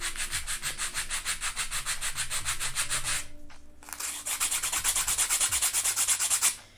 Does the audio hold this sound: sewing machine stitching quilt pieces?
no